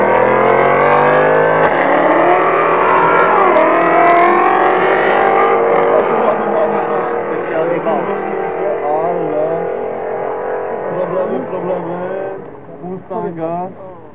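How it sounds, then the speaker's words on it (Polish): A Mercedes C63 AMG's powerful engine roars and revs hard through a quarter-mile drag race run at an airfield, the pitch climbing through gear shifts before fading, with a commentator's voice over it. "na lewym torze już zdecydowany na swój przejazd Mercedes C63 AMG"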